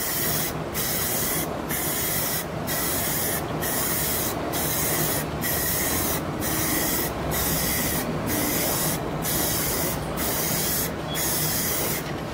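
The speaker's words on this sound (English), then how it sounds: "We're gonna hit it with another coat of that white gloss Rust-Oleum." White gloss Rust-Oleum spray paint is applied to a canvas in a dozen short, evenly spaced hissing bursts, close and fairly loud, over a steady background hum, with no talk.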